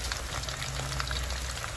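Banana chips frying in hot oil, a steady crackling sizzle with scattered bright pops, close and fairly loud throughout, no voices.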